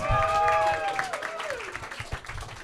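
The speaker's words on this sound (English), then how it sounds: "Keep those hands clapping right now for Brandon, LaCarruba" Clapping and applause from a comedy roast battle audience, a loud wash of many hands that fades and turns sparse, mixed with crowd noise and a tonal sliding sound over the first half.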